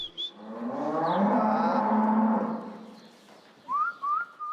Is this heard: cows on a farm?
yes